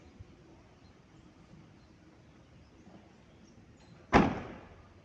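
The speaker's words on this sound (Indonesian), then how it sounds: "Tutup pintu bagasi." A car's rear trunk lid shuts once with a single loud, close slam during an inspection, and the thud decays quickly after a quiet stretch.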